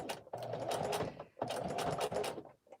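A sewing machine stitching fabric strips into a jelly roll rug, running in two steady mechanical bursts of rapid needle clatter separated by a short pause, close and clear with no talking.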